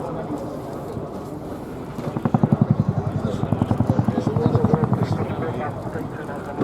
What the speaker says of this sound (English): Listen to the gearbox's whine as the aircraft soars up to 800 feet.